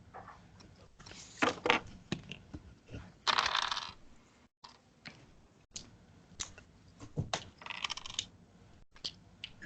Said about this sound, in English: feel like I've heard a couple dice rolls now.